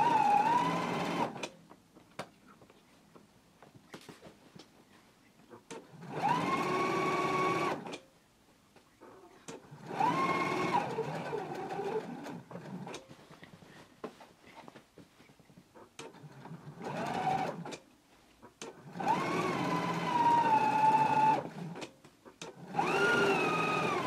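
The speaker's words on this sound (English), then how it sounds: "I'm gonna take it to the machine and I'm gonna stitch close to the edge along the side and the lower edges of the pocket" A sewing machine stitches a pocket onto the side seam of a pair of pants, running in several bursts of a few seconds each, a steady mechanical whir that speeds and slows, separated by quiet pauses.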